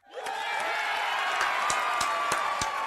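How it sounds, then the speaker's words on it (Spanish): A cartoon crowd applauds and cheers in an episode of American Dad dubbed into Latin American Spanish. A continuous wash of clapping and crowd noise swells in quickly and holds steady, with a few sharp claps standing out. "¡Aplausos!"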